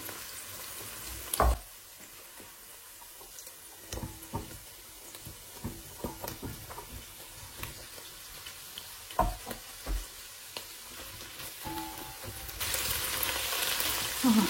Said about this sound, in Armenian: Միասին բոլորը տապակում ենք մոտ 5 րոպե